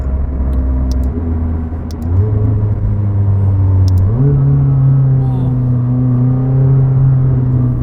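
A McLaren 600LT sports car engine idles and revs with a low, steady rumble that steps up in pitch, with faint sharp exhaust crackles and pops near the start.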